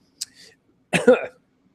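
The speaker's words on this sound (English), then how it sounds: "that cough proves I'm sick" A single sharp cough, close and fairly loud, after a brief faint breathy sound, then quiet.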